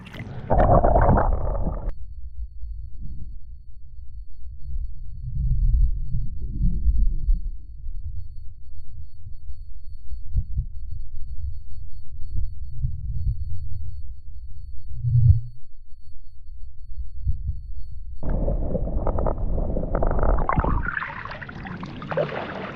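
Underwater sound while a redfin caught by bait fishing at Waranga Basin is released: muffled low rumbling and gurgling water beneath the surface, with splashing sloshes as the camera goes in and comes out, no talk.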